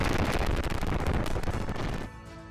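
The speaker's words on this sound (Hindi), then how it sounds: "ये देखिए, एक साथ कई धमाकों से दहला पूरा शहर।" Serial explosions during a Russian attack on a Ukrainian city in the Russia-Ukraine war. A dense, loud crackle of rapid blasts runs for about two seconds, then cuts to a much quieter background.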